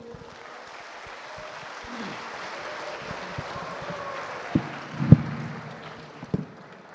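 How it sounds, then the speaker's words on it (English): Audience clapping for a speaker at a public lecture, a soft steady patter of applause in a hall with a few louder claps standing out near the end. "can you all please give a round of applause to our honorable speaker"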